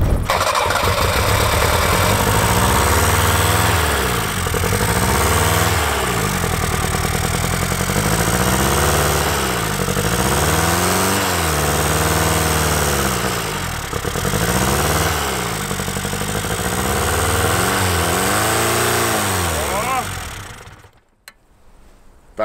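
A Toyota car engine, buried underground for a year, running with a rough, loud rattling idle and repeated rhythmic revs that rise and fall for about twenty seconds before cutting off abruptly.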